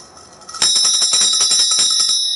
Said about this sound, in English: You ring that bell.